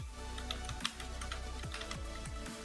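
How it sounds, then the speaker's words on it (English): Computer keyboard keys clicked in an irregular run while a title is typed in Photoshop, with short sharp ticks repeating under a steady background hum. "I'm going to type prayer."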